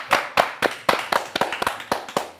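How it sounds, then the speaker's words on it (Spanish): Welcoming a podcast guest, a few people clap close by in a sparse, uneven rhythm of distinct sharp claps over about two seconds, with no talk over them. "le voy a dar la bienvenida con un fuerte aplauso a Ale"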